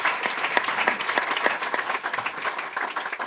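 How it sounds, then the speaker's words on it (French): Audience applause at a French leadership-and-sport talk event, a steady dense patter of many hands clapping at moderate loudness with no voices on top. "donc on peut applaudir Julien"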